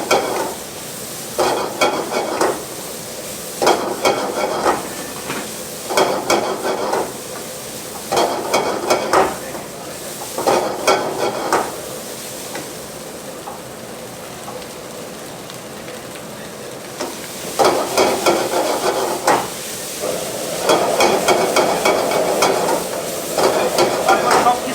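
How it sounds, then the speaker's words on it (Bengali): A metal spatula scrapes and tosses seafood fried rice in a hot pan over high flame, in repeated rhythmic bursts of stirring over a steady sizzle. "সব কিছু দেওয়ার পর আমরা হাই ফ্লেমে এটাকে কিছুক্ষণ টস করে নেব"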